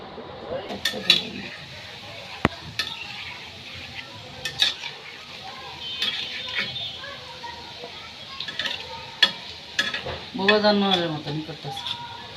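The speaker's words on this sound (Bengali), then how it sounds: "চুলায় ভাজতে দিয়ে দিছি" Meat kofta sizzles in a hot pan while a utensil stirs and scrapes, with clinks of cookware and a voice talking intermittently.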